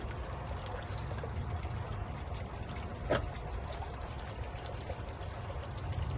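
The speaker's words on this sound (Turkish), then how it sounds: "şu anda su güzel akıyor" Water streaming steadily through a Mikron gold prospecting machine, a continuous close pouring and trickling wash with one brief splash near the middle and no talking.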